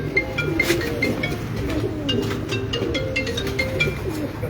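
A female Lal Pari pigeon kept by a breeder coos in low, rolling murmurs, joined by scattered brief chirps from other birds nearby, with no talking.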